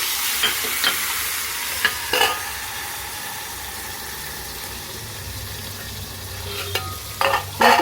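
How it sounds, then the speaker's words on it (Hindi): Hot oil sizzles steadily as tempering spices and coriander fry for dal, with a few sharp clinks and scrapes of a spoon in the pan, near and fairly loud. "तो अब मैं लगा देती हूँ तड़का"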